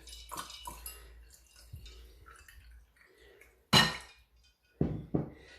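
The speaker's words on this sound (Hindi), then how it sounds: "फिर पानी डाल देते हैं इसके अंदर।" Water poured into a glass holding a soaked plum (aloo bukhara) while making tamarind-plum sharbat, heard as a few sharp splashing bursts near the end after quiet clinks and faint kitchen sounds.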